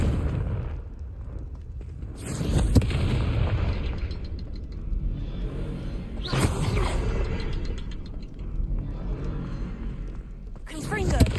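Confringo fire spell blasts in Hogwarts Legacy: several loud booming bursts at intervals, each with a crackling tail, over a rumbling game background with talking.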